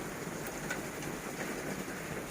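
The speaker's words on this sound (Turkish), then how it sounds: "yağmur başladı" Rain falls outdoors by a greenhouse as a faint, steady, even hiss with soft scattered drops and no voices.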